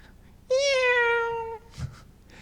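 A human voice imitates a cat's meow in one long, drawn-out, tonal wail of about a second, close and clear, followed by a short low sound and quiet.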